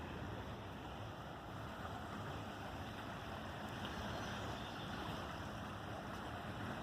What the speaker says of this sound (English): So check out this beautiful creek.